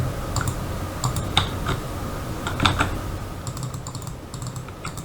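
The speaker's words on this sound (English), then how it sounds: "This is a left click." Sharp mouse clicks and keyboard taps in short irregular bursts, close and fairly quiet, over a steady low background hum while playing Company of Heroes 1.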